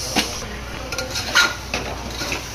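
Chili powder masala being stirred in a cooking pan for chana dal, with a few sharp spoon-on-metal clinks and scrapes over a soft background hiss, close and fairly quiet.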